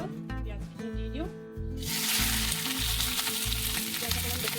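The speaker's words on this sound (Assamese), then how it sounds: "এইফালে তেল গৰম হৈ গ'ল পিঁয়াজখিনি দি দিওঁ" Onions dropped into hot oil for a Nababi chicken dish burst into a loud, steady sizzle that fills the rest of the clip, with a rhythmic low thumping of background music underneath.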